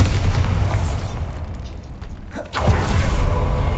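Bombarda blasting spell in Hogwarts Legacy, a loud, dense explosive roar filling the clip, with a sharp burst near the middle before the rumble swells again.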